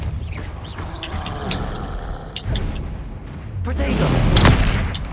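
Confringo blast spells exploding in the Hogwarts Legacy video game, with crackling bursts and booms that build to a heavy, rumbling explosion near the end, amid combat noise and a voice talking.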